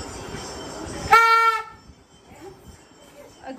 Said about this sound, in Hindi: एक ही भोंपू है।